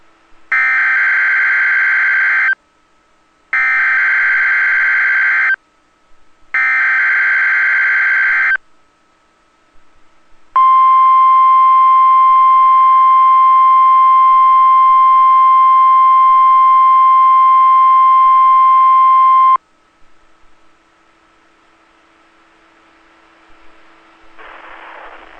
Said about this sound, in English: has just activated the warning alarm on 13 weather radio stations across central and southern Minnesota and west central Wisconsin